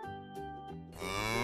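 A cow in a children's cartoon gives one loud, drawn-out moo that rises in strength near the end, following a short tonal lead-in.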